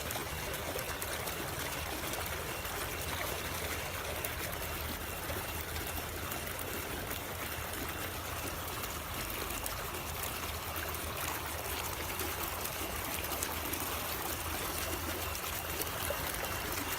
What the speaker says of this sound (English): These are the bubblers running at night.